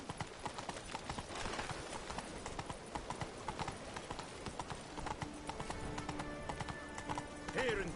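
Geralt's horse Roach in The Witcher 3: Blood and Wine trots with a steady, quick clip-clop of hooves, and a snorting whinny rises near the end, with faint talk in the background.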